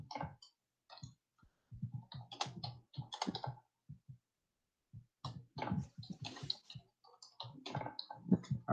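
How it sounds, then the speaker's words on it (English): Typing on a computer keyboard, irregular bursts of soft, close key clicks separated by short silent pauses, quiet and without any voices. "let me just type it in full"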